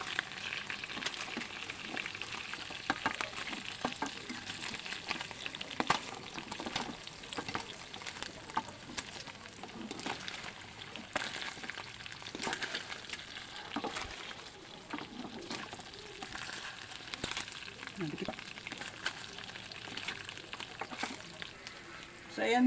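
Tomatoes and garlic sautéing in oil for a sambal give a steady, crackling sizzle with occasional stirring clinks, close and continuous, with faint talk in the background.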